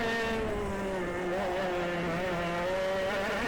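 A 30-year-old F100 racing kart engine on a track, pulling hard out of a slow hairpin through the second sector: a continuous, close, high-pitched buzzing drone rising in pitch, with no talking.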